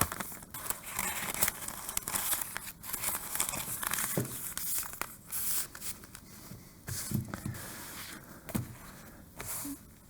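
Butcher paper crinkled and shuffled close by while four sheets are readied for a sublimation wine bag, with repeated rustles, crackles and soft taps across the whole stretch.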